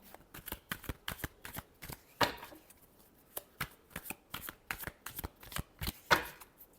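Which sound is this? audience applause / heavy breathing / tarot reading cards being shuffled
tarot reading cards being shuffled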